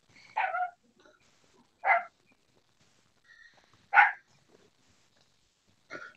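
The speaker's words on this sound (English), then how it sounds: "Hear that dog in the background." A dog barks off in the background, four separate barks spaced roughly two seconds apart, each sharp and fairly clear against an otherwise quiet room with no talking.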